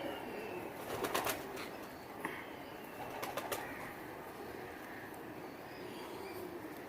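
Champion pigeons in a colony loft coo softly against a steady background hiss, with a few quick bursts of wing flapping near the start and middle.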